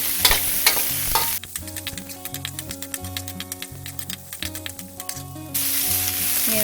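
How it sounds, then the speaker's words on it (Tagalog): Onion stirred and sautéed in a pan for ginataang kalabasa, a steady sizzle with rhythmic scraping strokes of a utensil against the pan, close and fairly loud. "Ngayon po ay isusunod na natin ang ating sibuyas. Hahaluin na po natin siya."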